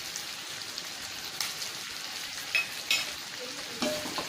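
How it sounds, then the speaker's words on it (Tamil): Pepper chicken with masala fries in oil, giving a steady, close sizzle with occasional louder pops and stirring scrapes, and no one speaking. "இது எண்ணெயிலே அப்படியே ஃப்ரை ஆகணும்."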